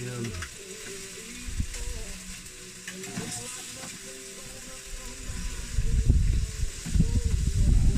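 Lamb chops sizzling on a bed of frying onions and tomatoes in a pan for an evening meal, a steady hiss and crackle that swells louder toward the end.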